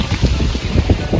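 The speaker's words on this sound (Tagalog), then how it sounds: "Mahangin today." Outdoor wind buffets the microphone in a rose garden, a loud, close rumble that swells and dips in uneven gusts for about a second.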